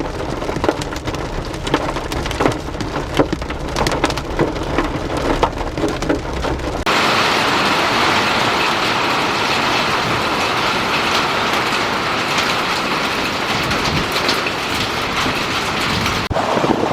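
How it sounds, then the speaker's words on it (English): Heavy hail batters a truck during a thunderstorm, starting as a dense rattling clatter that then swells into a loud, continuous roaring wash of impacts. "that's some pretty intense hail"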